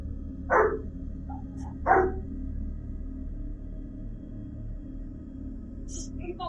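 A dog barks twice inside an abandoned building, two sharp, separate barks about a second and a half apart, moderately near over a low steady background hum, followed by quiet.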